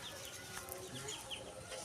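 Chickens cluck faintly at a village farmyard in Odisha, scattered short calls over steady outdoor background noise.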